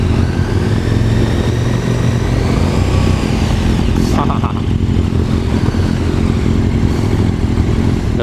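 A 2017 KTM SuperDuke 1290R motorcycle accelerates hard, its loud engine revving and climbing in pitch up close, with a brief gear-change break before it pulls again and wind rushing over everything.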